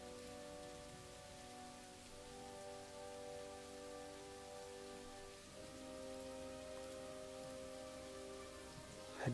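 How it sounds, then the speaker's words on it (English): Light rain falls in the naval strategy game Rule the Waves 2, a faint, steady patter of drops over a low sustained hum, with no talk. "This has got light rain."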